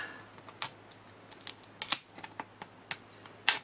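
Strong DIY scissors cut through yarn rack material, giving a series of quiet, irregular snips and clicks close by, with no talk.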